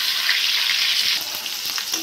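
Pointed gourd (potol) fries in a pan with turmeric and salt, a loud, steady sizzle close up that settles slightly softer, with faint stirring ticks underneath.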